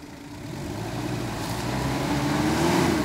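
A car with its wheels spinning in place, stuck and revving hard, a steady engine drone that climbs slowly in pitch and loudness with no talk over it.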